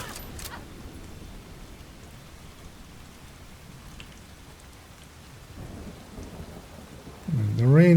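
Video-game rainfall pours as a steady wash with low thunder rumbling beneath, fairly soft overall, before a louder burst at the close.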